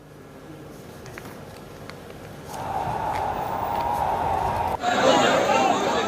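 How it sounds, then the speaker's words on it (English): A large crowd at Jama Masjid during a protest, a broad murmur of many voices that swells louder midway and then surges into loud chatter, with voices audible throughout. "Obviously, there's a big crowd there"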